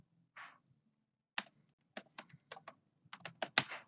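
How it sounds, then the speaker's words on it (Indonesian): Keystrokes on a computer keyboard while entering text in PowerPoint: a short burst of clicks, a pause, then irregular clusters of crisp taps, close and fairly quiet, with no talking. "Yang pertama, kita ketikkan saja"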